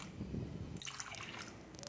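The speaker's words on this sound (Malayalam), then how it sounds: "ഒന്നര കപ്പ് വെള്ളം ഒഴിച്ചു കൊടുക്കുന്നുണ്ട്" Water being poured into a pot of toor dal mixed with turmeric powder, a brief soft splash and trickle up close, starting after a short noisy moment.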